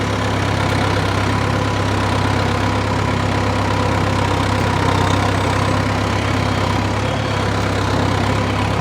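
A tractor's diesel engine runs steadily at a constant idle-like pace throughout, a continuous loud low rumble with no pauses and no voices over it.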